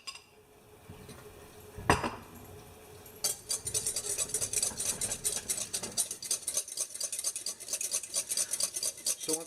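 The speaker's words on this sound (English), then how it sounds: "add in my egg yolk, which I've already broken up, and I'm going to start whisking that" A whisk beats broken-up egg yolk in a pan for blood orange hollandaise sauce, with a single sharp clank, then a fast, continuous rattling clink of metal on metal that carries on steadily and close.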